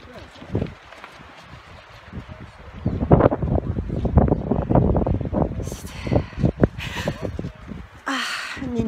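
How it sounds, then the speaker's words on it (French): Strong wind buffeting the microphone outdoors on the Camino de Santiago pilgrimage route, loud irregular rumbling gusts throughout with occasional hiss, under someone talking. "Il y a tellement de vent"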